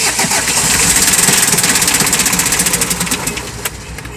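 A Hyundai HR van's diesel engine, with a seized-engine fault, cranks and catches, then settles into a loud, rapid, rattling idle close by, the chatter steady and slightly fading toward the end with no speech.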